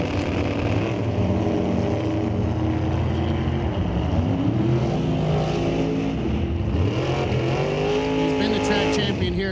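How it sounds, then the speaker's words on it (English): A 2005 Dodge Stratus built in Pro Stock style makes a drag racing run at an NHRA Canadian event at Mission Raceway Park, its loud engine roaring steadily with pitch sweeps as it accelerates, joined by other vehicle noise throughout. "The old Pro Stock Style 2005 Dodge Stratus out of Mission, BC."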